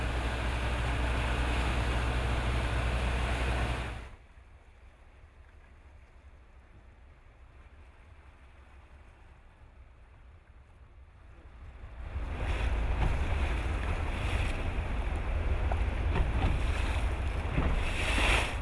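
A motorboat cruises along towering sea cliffs on the Irish coast, steady loud engine drone and wind rush that drops away to a quiet lull mid-way before the rumble and water noise return.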